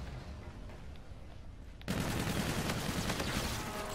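Sustained automatic gunfire in Call of Duty: Infinite Warfare free-for-all multiplayer, a quieter stretch of distant shots suddenly jumping to loud, dense, continuous bursts up close.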